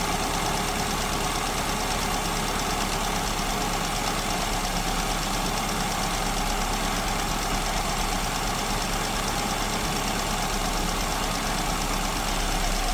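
An engine idles steadily and loudly throughout while its idle mixture nut is turned inward to lean out an overly rich fuel mixture, a constant dense mechanical rumble with no pauses.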